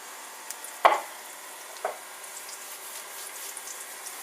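Four or five rissoles frying in a pan, a soft crackling sizzle under two sharper clatters of a utensil against the pan.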